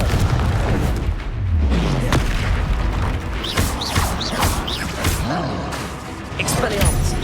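Booming Confringo fire-spell blasts in Hogwarts Legacy combat, loud and repeated amid a dense clash of spell effects, with a voice calling out over the fight.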